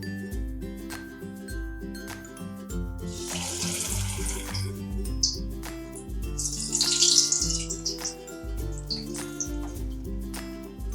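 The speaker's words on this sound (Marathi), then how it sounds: "आता चिकनचे सगळे पीस आपण तळून घेऊ" Chicken 65 pieces deep frying in hot oil over a medium flame, with bursts of bubbling sizzle that swell and fade twice over a steady musical background.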